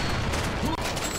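Shotgun blasts in the shooter game Serious Sam: Double D XXL, a dense, loud barrage of gunfire mixed with busy game noise and a voice talking, with no single shot standing apart.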